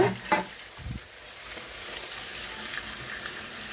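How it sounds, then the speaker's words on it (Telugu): Onions and chicken pieces frying together in a pan for a Sunday chicken fry and biryani, giving a steady, moderate sizzle with a couple of brief stirring knocks near the start. "చికెన్తో పాటు ఉల్లిపాయలు కూడా వేగిపోతాయి"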